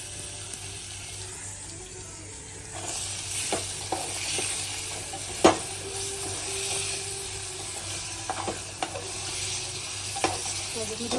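Pieces dropped into sizzling spice masala with turmeric in a pan, a steady frying hiss with stirring scrapes and clatters, one sharp knock midway, no talking.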